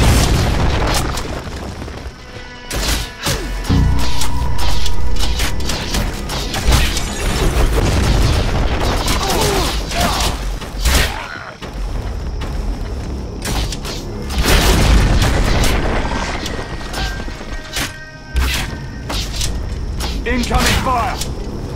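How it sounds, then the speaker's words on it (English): Ballista bolts slam into an inn during a video game siege, landing as repeated heavy booms and bursts with mechanical clatter, while voices talk over the barrage. "Are they using a ballista against an inn?"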